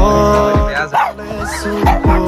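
A dog barks and yips a few times in quick bursts, fairly close, over a song with singing playing steadily underneath.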